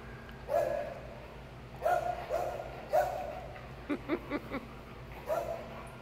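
Several dogs at rowdy play let out short barks and yips in bursts, a quick run of rapid yaps in the middle, fairly close over a low background hum.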